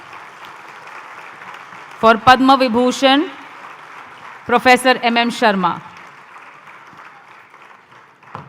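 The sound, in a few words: audience applause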